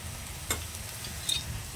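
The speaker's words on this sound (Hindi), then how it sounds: "तो मसालों को अच्छे से भून लेते हैं" Spices, including turmeric and ground clove and black pepper, roast in oil in a pan for a Uttarakhandi gahat phaanu, giving a quiet, steady sizzle with a couple of sharp spoon clicks; the moment is brief and has no talking.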